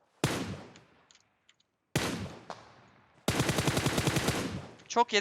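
Automatic gunfire in the mobile battle-royale game PUBG Mobile, heard as a loud, rapid string of shots after a few earlier single blasts, with someone talking briefly over it.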